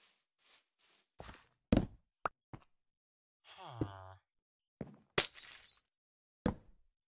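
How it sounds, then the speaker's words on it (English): Glass blocks breaking in the Minecraft video game, a handful of short, sharp crunching bursts spaced irregularly between quieter game sounds and a brief sighing voice. "I mean, it's fun breaking the glass,"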